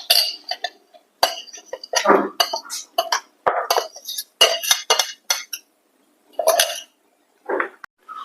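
Cashew, almond and coconut powder is tipped out onto a plate, with scattered clinks and scraping knocks of a utensil against dishware in a quiet kitchen and no talking.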